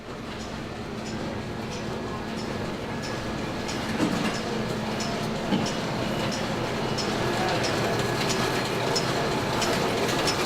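Heidelberg GTO 4-color, Heidelberg PM46 and Ryobi offset printing presses run together in a school print shop, a steady, dense mechanical clatter with rhythmic ticking and a constant hum, loud and continuous throughout.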